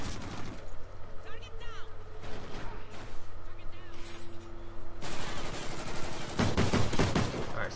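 Gunfire from the video game Call of Duty Ghosts during a team deathmatch match, bursts of shots cracking over a busy mix of game effects, with the sharpest, loudest volley near the end.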